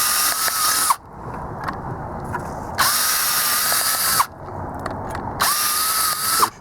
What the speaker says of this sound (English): go ahead and drill these out.